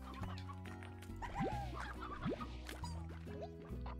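A chicken clucking in Slime Rancher: a string of short, close clucks and squawks over a steady game backdrop of low sustained tones, with no voices.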